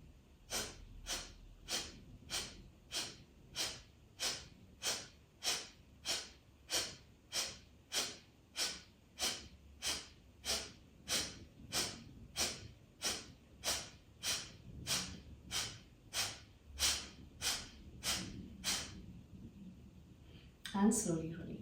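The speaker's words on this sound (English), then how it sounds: "I first take a deep breath in, deep breath out." Rhythmic nasal breathing exercise to clear congestion, drawing air through one nostril at a time while a tissue is held nearby: about twenty-five close, regular sharp sniffing breaths at a steady pace, ending with a brief rustle.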